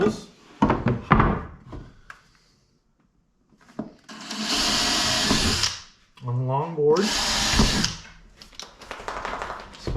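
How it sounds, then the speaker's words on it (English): A power drill whirs into wood in two bursts, pre-drilling two holes, the second briefly rising in pitch, with a person talking before and between them. "I'm going to pre-drill"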